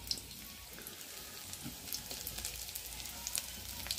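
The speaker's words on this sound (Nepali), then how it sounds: "तेल यहाँनिर मैले हालिसकेको छु। यो हाम्रो लसुनको चप गरेको टुक्राहरू हो।" Chopped garlic fries in hot oil, a faint, even sizzle with light crackles and pops, steady throughout with no talking.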